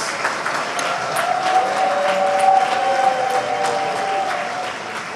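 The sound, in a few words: audience applause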